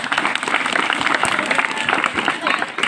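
An audience at a staged comedy play gives steady, dense applause throughout, with voices talking over the clapping.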